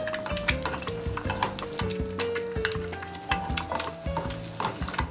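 Food frying in a hot oil bath, a close, continuous sizzle with repeated crackling pops and occasional utensil clinks, over a steady tonal hum in the background.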